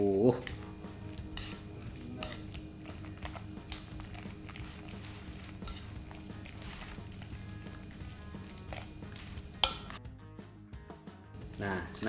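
Light clinks and scrapes of a utensil against a pan while carbonara pasta sauce with smoked beef is stirred, faint and continuous over a low hum, with one louder clatter near the end.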